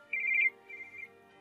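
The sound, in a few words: phone ringing with an incoming call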